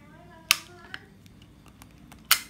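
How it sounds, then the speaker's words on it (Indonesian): FX Crown airgun rifle being cocked, two sharp crisp mechanical clacks about two seconds apart with faint small clicks between, close and alone. "Kita coba kokang. Wah, renyah sekali bosku."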